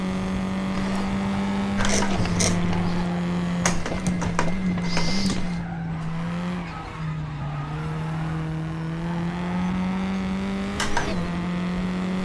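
A race car braking in the Raceroom racing game: a steady engine drone drops in pitch with downshifts, and brief tire-squeal bursts cut through.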